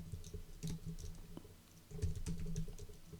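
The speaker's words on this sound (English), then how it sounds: "Type something in there." Keystrokes on a computer keyboard, a run of soft, quick clicks in short bursts with a pause in the middle, close and fairly quiet, no talking.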